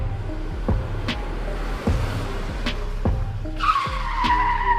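A car pulls up and parks in front of a factory, tires skidding and screeching toward the end amid repeated thumping impacts, loud and close, with no speech.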